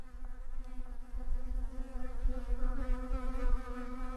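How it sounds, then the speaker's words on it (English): Masonry bees buzz steadily and close by, a droning hum that wavers in pitch as they fly about, with no voices. "there's more masonry bees there, look, flying about"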